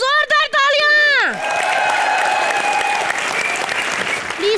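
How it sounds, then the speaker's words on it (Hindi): Studio audience at a live Hindi comedy show breaks into loud, sustained applause right after a sung or shouted phrase at the start, the clapping rolling on steadily with a few cheers mixed in. "एक बार जोरदार तालियां।"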